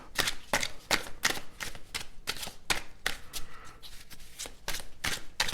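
A deck of tarot cards being shuffled by hand, with quick rhythmic bursts of riffling and flicking repeating about a dozen times, close and crisp with no talk.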